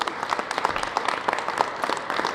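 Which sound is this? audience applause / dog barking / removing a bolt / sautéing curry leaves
audience applause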